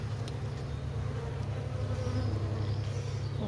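Honeybees swarming an open beehive, a dense, steady low buzz droning close and continuous throughout, with no voices over it.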